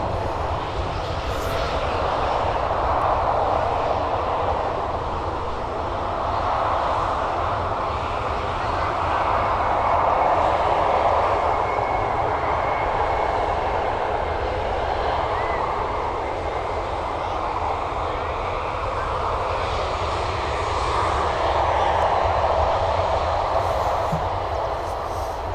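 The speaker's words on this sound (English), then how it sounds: "It's our first Ryanair departure. And here comes our second one." A Ryanair jet departing Birmingham Airport, heard up close as a sustained engine roar that rises and falls in broad waves across the whole stretch.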